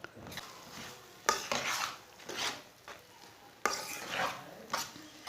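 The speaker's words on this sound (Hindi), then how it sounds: "इसे चम्मच चलाते हुए पकाना मीडियम आंच पर।" A spoon stirs egg vermicelli in a pan over medium heat, scraping and clinking in several close bursts with quiet pauses between, with faint frying sizzle underneath and no talk.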